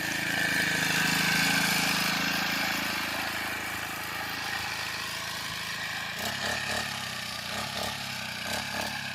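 A smoking, worn-out engine on a pesticide sprayer pump is revved, giving a loud, steady motor drone that holds throughout, with a few rougher pulsing bursts near the end.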